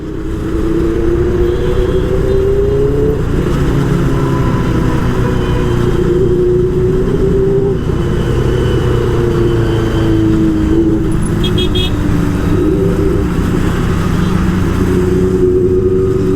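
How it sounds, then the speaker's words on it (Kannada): A Benelli 600i inline-four superbike engine revs repeatedly up close, the pitch climbing and dropping over a steady loud idle, with no talking. "ಇವಾಗ ಒಂದು ರೇವ್ ಬರುತ್ತೆ ನೋಡಿ"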